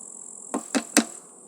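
Honeybees hum faintly in a hive super of a double-colony box, a low steady drone broken by three sharp knocks close by.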